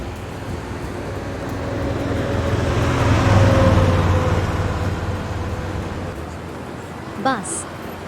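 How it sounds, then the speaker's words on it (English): A pickup truck drives by, its low engine rumble and tire roar swelling to a peak midway and then fading, with a brief squeal near the end. "Pickup truck."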